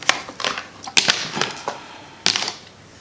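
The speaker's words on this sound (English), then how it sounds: "Cutting this lace off of here." Scissors snipping the lace off an Outre synthetic wig, heard as a series of sharp, close clicking cuts in irregular bursts, some sitting louder than others, with no talking.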